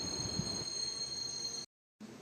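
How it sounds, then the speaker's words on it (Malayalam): The Palaruvi Express sits at Angamaly railway station, heard from on board as a faint, steady mechanical hum and low rumble that cuts out briefly before resuming. "പാലരുവി എക്സ്പ്രസ് അങ്ങനെ അങ്കമാലി റെയിൽവേ സ്റ്റേഷനിൽ നിന്ന് പുറപ്പെട്ടിരിക്കുക കേട്ടോ"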